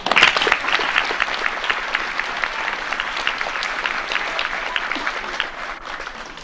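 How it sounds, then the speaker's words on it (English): An audience at an elementary school spring program applauds the parent support group. Steady crowd clapping fills the space for several seconds, full and sustained, with no talk over it. "I'd like to give them a good applause"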